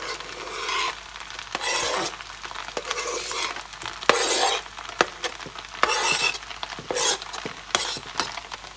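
Beaten egg sizzles in a hot pan with leftover fried rice while a utensil stirs and scrapes through it, giving steady frying hiss broken by repeated close, loud scraping strokes, with no one speaking.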